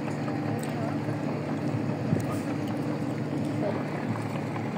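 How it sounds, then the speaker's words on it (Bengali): A passenger launch approaches a riverbank on a river route from Dhaka, its engine giving a steady low droning hum at moderate distance, continuous and even, with faint ambient outdoor noise. "ঢাকার দিকে একটি লঞ্চ যাচ্ছে, আবার ঢাকার থেকে একটি লঞ্চ আসতেছে।"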